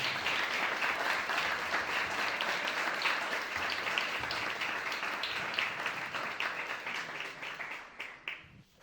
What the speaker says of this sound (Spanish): pido un aplauso para esta gente hermosa.